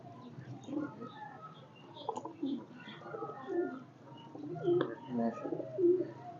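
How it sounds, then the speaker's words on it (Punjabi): Domestic racing pigeons coo nearby in soft, repeated throaty bursts that rise and fall, with people talking over them. "ਉਹ ਆਪ ਕਬੂਤਰ ਕਿੱਥੇ ਗਈ?"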